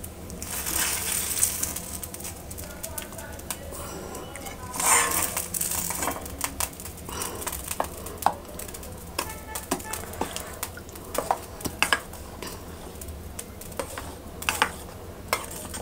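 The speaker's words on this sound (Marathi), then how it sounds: "परतलेले साबुदाणे आता आपण या दहीमध्ये टाकूया." Fried sago pearls are stirred into yogurt in a bowl, giving irregular wet clicks, scrapes and spoon knocks that come in short bursts, close and fairly loud, with no talking.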